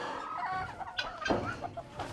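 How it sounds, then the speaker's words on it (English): Large farm chickens clucking nearby, with a few soft, irregular clucks and calls over a quiet outdoor background and no talk. "Will probably be the biggest chickens we've had here on the farm."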